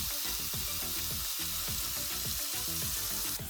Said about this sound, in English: I'm gonna go ahead and start the frying process